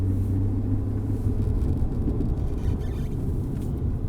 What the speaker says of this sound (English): if I put my foot down, the car still wants to go